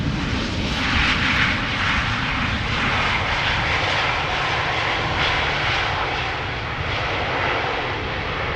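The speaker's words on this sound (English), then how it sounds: "this regular A320 arriving from Oslo and from SAS" An SAS Airbus A320 jet airliner arriving at Amsterdam Schiphol Airport from Oslo, a loud, sustained engine roar with broad rushing noise that holds steady throughout.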